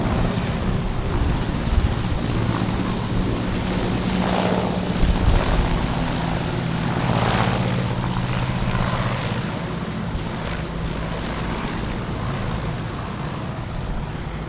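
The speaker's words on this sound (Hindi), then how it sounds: "मैं कुछ देर के लिए खामोश रहूँगा ताकि आप हेलीकॉप्टर की ये आवाज़ जो है ये सुन पाएँ।" A helicopter flies over flood-hit Punjab during relief operations, its rotor chop and engine drone loud and continuous, swelling in places with a throbbing pulse, with no talk over it.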